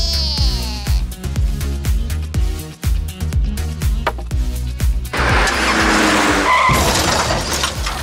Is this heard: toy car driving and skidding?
yes